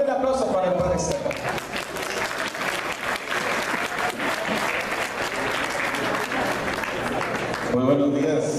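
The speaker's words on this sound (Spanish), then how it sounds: "Fuerte el aplauso para el padre Serra." A large diocesan assembly audience in a hall gives loud, sustained applause for a priest, a dense wash of clapping that swells in and runs for several seconds before tapering off, with brief talk at the edges.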